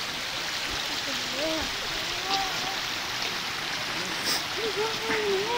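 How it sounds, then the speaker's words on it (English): A flooded river rushes violently after a road washout, a steady close torrent of churning water running beneath a person talking throughout. "That little innocent river turned violent."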